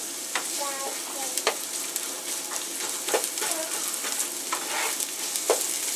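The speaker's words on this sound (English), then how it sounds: "We're gonna fry it until it gets a little yellow color." Chopped onion frying in a soup pot, a steady dense sizzle throughout with occasional stirring clicks and scrapes, close and fairly loud with no talking.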